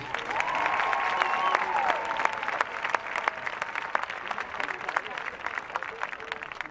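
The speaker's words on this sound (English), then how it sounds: "Y'all give him a big round of applause, please." A crowd at an outdoor protest open mic in Denver claps, moderately loud applause with a few cheers that gradually thins into scattered claps.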